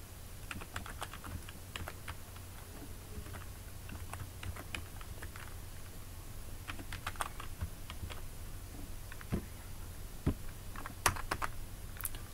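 Fingers type on a computer keyboard, a faint, irregular run of clicking keystrokes over a low steady hum, with occasional louder key taps near the end.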